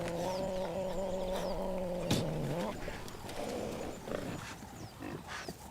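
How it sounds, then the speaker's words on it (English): A young male cheetah squabbling with warthogs: a drawn-out tonal growling moan that breaks off, followed by scuffling grunts, snorts and rustling close by. "The spat continues, but the warthogs stand their ground."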